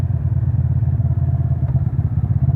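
A Kawasaki 400NK motorcycle engine running while riding, a steady low rumbling drone with a throbbing pulse, close and loud, with no speech.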